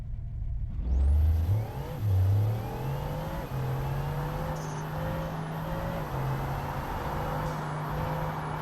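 A Bugatti supercar engine in a video game surges and revs up at the start, then settles into a steady high-pitched whine and drone with subtle shifts in pitch, loud and alone.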